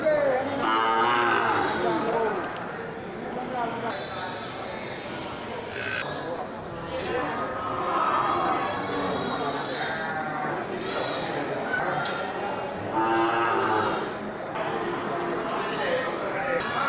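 Bali cattle moo repeatedly in a noisy livestock market, with people talking throughout and other animals calling nearby.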